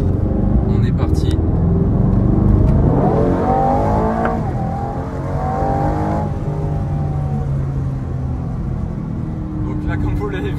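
A 2024 Aston Martin Vantage with 665 horsepower accelerating hard on a mountain road above Monaco, its engine climbing steadily in pitch through the gears, loud and close, with someone talking over it.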